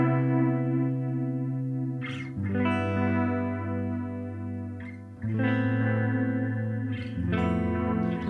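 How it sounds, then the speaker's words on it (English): Sustained electric guitar chords through a Line 6 HX Stomp or Helix with an oceanic reverb and delay, each chord ringing out and washing into the next, with pick and string noise between changes. "maybe let's do a reverb or delay thing"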